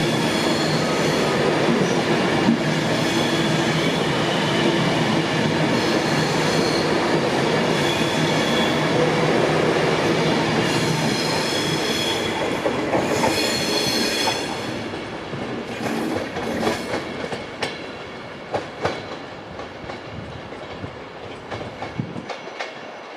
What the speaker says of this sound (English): their route learning train is standing in platform 1, waiting to depart for Heaton Depot